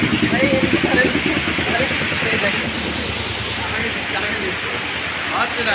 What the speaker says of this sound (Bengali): পানি ভেসে দোকানে ঢুকছে।